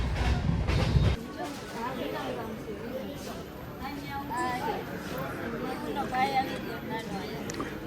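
A running train rumbles and clatters steadily from inside a passenger coach, with people talking and chattering over the constant rolling noise.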